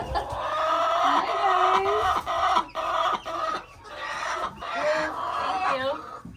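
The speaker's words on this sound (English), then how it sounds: "So I think we have, what, 29 chickens all together." Several hens cluck and murmur close by in a continuous, busy chorus, with a few higher drawn-out calls rising above the flock.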